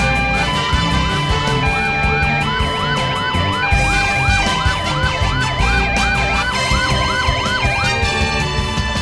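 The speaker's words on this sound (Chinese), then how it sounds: "救护车马上就要来了" An ambulance siren wails loudly and close by in a repeating rising-and-falling pattern that carries on for the whole stretch, with a steady low rumble underneath.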